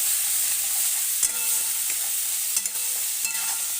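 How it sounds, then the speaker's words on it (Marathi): Fish masala stirred in a pan for a tilapia curry, a bright steady sizzle broken by a few distinct scraping strokes of the spoon, close and without voices. "आता हे बघा हलवून घेते"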